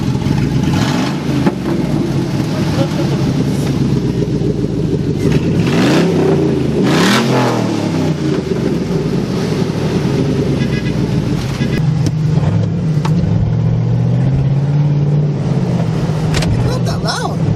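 A Hummer H2 with its muffler deleted revs and accelerates nearby, its rough exhaust note rising and falling in several surges with people talking over it.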